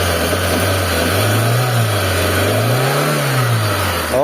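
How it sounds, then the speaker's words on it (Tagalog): Mitsubishi Lancer with a 4G15 engine, its knocking fault repaired, revving steadily in two smooth rising-and-falling swells; the engine sound is loud, close and continuous with no talking. "So pagka nag-rev tayo, wala nang maingay mga bossing."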